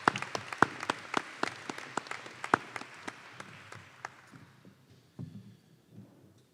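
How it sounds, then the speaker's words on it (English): Audience applause at an interfaith leadership award dinner: a burst of sharp, scattered claps from a room of guests that thins out and fades to a few last claps and quiet shuffling. "Let's give them another round of applause now that they're up here"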